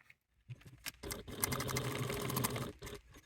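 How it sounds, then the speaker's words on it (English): A sewing machine top stitches a slip pocket on a bi-fold wallet, a short close run of fast, even needle chatter that starts after a quiet moment and tapers off near the end. "take to the machine. We want to top stitch at a 1/8 seam allowance away from the folded edge"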